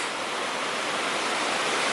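A rough river rushing past a trail crossing, a steady loud roar of churning water with no breaks.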